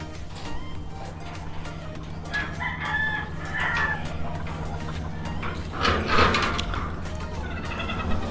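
Gamefowl roosters crow and cluck inside a stock bird loft. Several overlapping calls come from close by, and one crow rises louder near the end over a steady hum.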